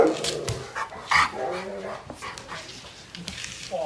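A large 160 lb pitbull makes short, close, excited barks and yelps mixed with panting and whimpering while it roughhouses with a person. The sounds come in irregular bursts with some scuffling, and no clear talking.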